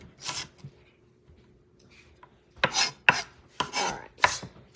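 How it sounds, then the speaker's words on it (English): A knife dicing an onion on a cutting board, with a single chop, then a quiet gap, then a quick run of five crisp, close chops. "it makes dicing your onion really easy"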